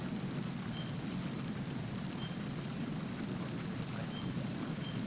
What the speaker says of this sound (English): The sound of the rain is really cool.